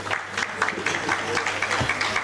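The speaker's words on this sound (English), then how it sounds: "May we give them a round of applause." Audience clapping at a conference hall, a steady patter of many hands lasting a couple of seconds at moderate level, with no talk over it.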